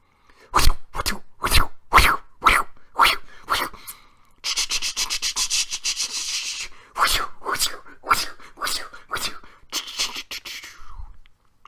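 A voice imitates a helicopter: rhythmic, breathy chopping bursts, then a steady whooshing stretch, then the chopping beat returns.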